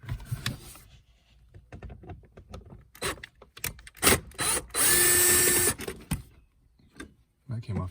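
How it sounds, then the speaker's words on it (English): A power tool runs in short bursts and one longer steady whir while Torx T30 bolts are removed from a Porsche Cayman interior during an AC fan button replacement, close up, with brief talk in between. "I'm gonna remove some of the bolts."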